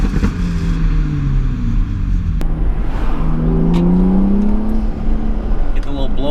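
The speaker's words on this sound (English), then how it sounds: "You get these like little crackles and pops." A modified BMW 435i revs and downshifts, its exhaust note rising and falling, with a couple of sharp crackles and pops.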